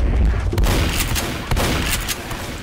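Heavy, booming shotgun blasts in the zombie shooter Left 4 Dead fire in quick succession, loud and close, with several sharp reports across a few seconds.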